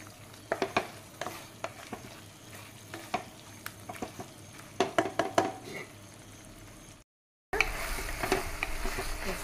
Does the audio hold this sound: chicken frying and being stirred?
yes